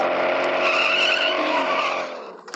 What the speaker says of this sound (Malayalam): വണ്ടി സ്പോർട്സിലിട്ടിട്ട് ഇതിൻ്റെ സ്പീഡ് നോക്കിയാലോ